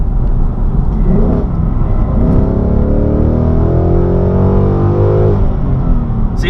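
A 2018 Ford Mustang with a new aftermarket exhaust revs hard into high RPM, the loud, close engine tone climbing and holding in rising harmonic bands before easing off near the end.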